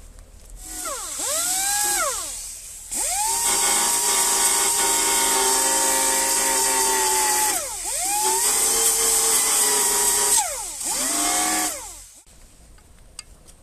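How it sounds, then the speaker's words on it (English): A belt sander grinds down filler and metal during car body rust repair, whining loudly up close in several long bursts with short spin-down and spin-up dips between them, heard with no talking. "Belt sand them bits down now."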